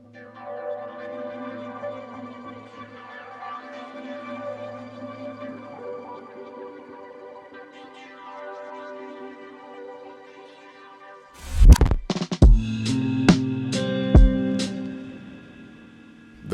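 A soft, sustained lo-fi guitar beat texture runs for several seconds before reversed kick and snap hits swell in, then a snare roll sounds. The later part is punchy and louder, and there is no talking.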